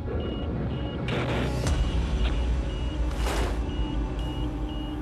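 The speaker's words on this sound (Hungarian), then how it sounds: "Hallják ezt a csipogást?" Electronic altimeter on a landed model rocket beeping in a steady repeating pattern of short tones, heard outdoors in a windy field with rustling and handling noise around it.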